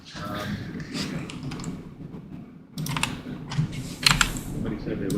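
A loud computer keyboard being typed on close by, bursts of fast clicking keystrokes with a short pause partway through, and a voice murmuring underneath at times.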